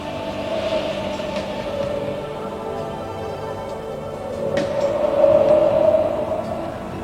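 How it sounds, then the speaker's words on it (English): A Blackpool tram runs on rails with a steady mechanical rumble and rolling wheel noise, a sustained mid-pitched whine rising near the end, heard up close from inside with no talk. "And here I am, driving a tram"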